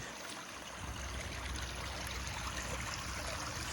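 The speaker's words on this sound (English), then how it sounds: "The water's flowing much better now" Rainwater runs through a drainage channel in a steady, close rushing trickle that swells slightly after the first second and continues evenly with no talking.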